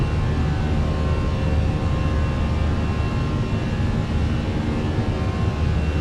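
Fenix A319 airliner engines, simulated in Microsoft Flight Simulator, hold a steady, full roar with throttles set for climb. The deep, even drone is unbroken and has no voices over it.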